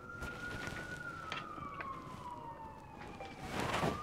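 A police siren wails from a distance, its tone slowly sliding, with another siren rising louder toward the end.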